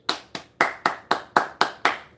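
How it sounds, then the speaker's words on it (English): Eight sharp hand claps in a steady, even rhythm, close and crisp, with nothing else around them. "I'm clapping for several of your classmates."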